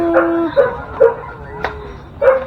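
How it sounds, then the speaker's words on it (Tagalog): A dog whimpers close by in short, whiny yips and whines, repeating several times over a couple of seconds with no one speaking. "Lungkot naman ang aso mo."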